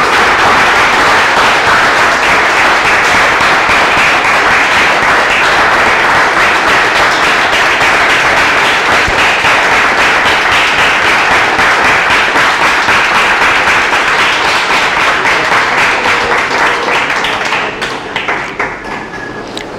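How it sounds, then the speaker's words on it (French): Dense, sustained audience applause fills a hall at a book signing ceremony in Diourbel, steady loud clapping for the speaker's father that thins and fades near the end. "J'aimerais que vous l'applaudissiez."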